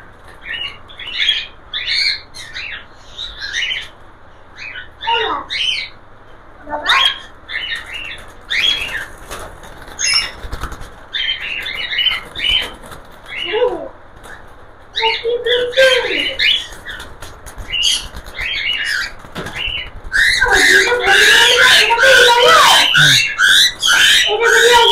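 Male cockatiels squawking and chirping loudly and repeatedly at close range among a group of cockatiels, with wing flapping throughout and a dense burst of calls near the end.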